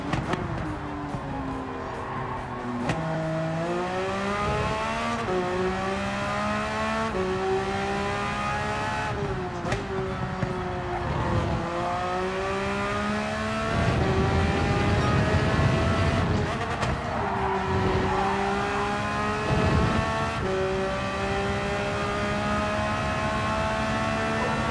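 Porsche 996 engine in Gran Turismo 7, revving continuously through repeated up and down pitch sweeps as gears change while lapping a track, steady and fairly loud throughout.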